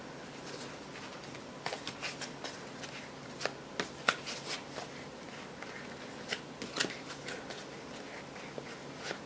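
Tarot cards are shuffled by hand in short, soft riffling bursts with small pauses between them, quiet and close in a still room.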